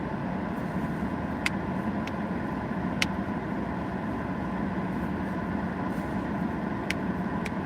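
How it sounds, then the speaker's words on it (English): A car cruising along Spring Mountain road, a steady low rumble of engine and tire noise from inside the cabin, with a few faint ticks over the constant drone. "I'm driving west on Spring Mountain."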